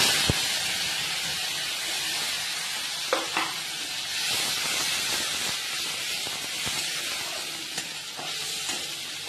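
Ground spices fry in hot oil for an egg curry, giving a steady, loud broadband sizzle with occasional sharp spatters and a few stirring scrapes, no voices.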